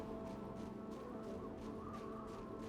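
A bird call ambient effect from the Guild Wars video game, a faint, repeated cawing that pulses several times over a steady musical and ambient background.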